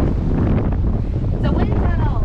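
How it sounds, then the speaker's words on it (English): Strong wind buffets the microphone in a constant loud roar, with a faint voice briefly audible underneath. "Feel how windy it is."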